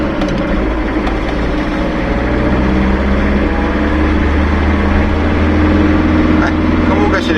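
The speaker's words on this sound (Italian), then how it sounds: "forse sentite un po' il rumore amplificato del motore" A car engine runs with its noise amplified, heard from inside the cabin after a driveshaft cross joint was replaced: a steady, loud low drone with a continuous broadband rumble, and a voice talks over it.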